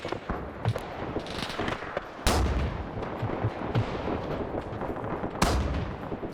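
Artillery in a military video game operation set on Raate Road booms in a few heavy close blasts, spaced several seconds apart over ongoing crackling gunfire and rumble.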